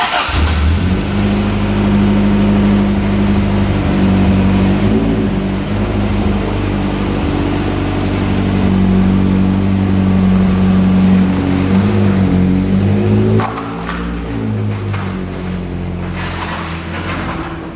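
A Toyota AE86 engine runs loud and close while the car is driven, its revs rising and falling in steady waves before dropping to a lower, rougher idle near the end.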